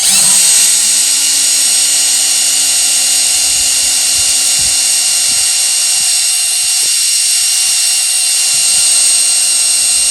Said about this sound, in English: Get a small drill through it.